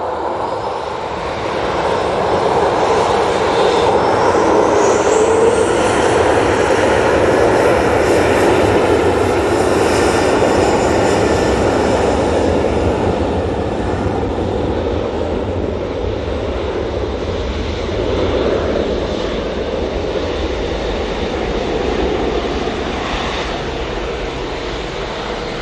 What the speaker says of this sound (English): Next out, we've got Tui 737.